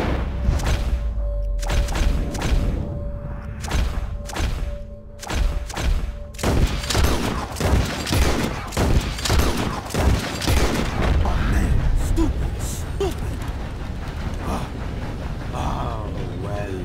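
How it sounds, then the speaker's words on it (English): Rapid gunshots crack and boom in quick succession as birds are shot in the Red Dead Redemption 2 video game, loud and close, with an echoing, thinning tail of reports afterward. "You shoot four birds out of the sky before me, you win."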